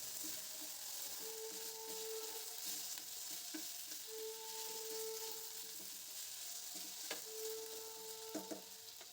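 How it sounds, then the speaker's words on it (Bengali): Vegetables for a spinach curry fry in a pan with a constant soft sizzle, under a few light utensil scrapes and faint tonal beeps that recur; no one speaks. "সবজিগুলো একটু হালকা ভাজা ভাজা হয়ে এসছে।"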